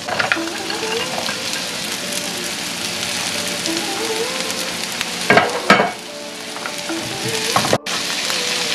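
Beans frying in a pan for a mushroom and bean curry: a loud, steady rain-like sizzle with a couple of sharp stirring bursts and one brief break near the end.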